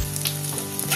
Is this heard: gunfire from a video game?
no